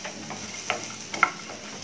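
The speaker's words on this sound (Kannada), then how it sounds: "ಇಷ್ಟನ್ನು ಹಾಕೊಂಡು ಫ್ರೈ ಮಾಡ್ಕೊಳ್ಳೋಣ" Dry ingredients for taro root sambar fry in a pan without oil, giving a faint, steady sizzle with a few soft scraping stirs and small clicks, heard alone.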